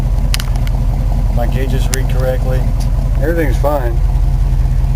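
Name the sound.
Chevrolet K10 truck engine running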